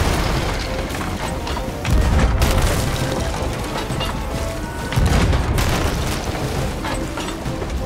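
Booming cannon blasts in the pirate game Sea of Thieves, a few heavy thuds rising out of dense continuous rumble and clatter of ship combat, loud and close, with no talking over them.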